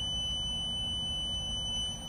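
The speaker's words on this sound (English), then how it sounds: "That's the beeper? That's good." A small FPV quadcopter's beeper, an RCharlance FuryBee Q95, sounds a steady high-pitched electronic tone that holds continuously through the clip over a low background rumble, close by with no speech.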